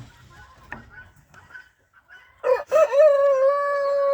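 Low poultry murmurs and scattered calls sit in the background, then a loud nearby rooster call, apparently a Dekan, breaks out and holds a long, strained tone to the end.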